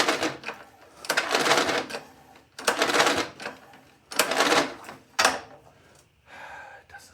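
A Scotts pressure-washer tiller's small engine is yanked by its pull cord several times, each pull a harsh ratcheting rasp close by. Short gaps fall between the strokes and a fainter rattle comes at the end.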